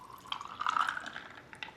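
Iced milky espresso latte poured over ice, a soft close liquid trickle and splash with a faint rising fill tone, heard alone in a quiet room.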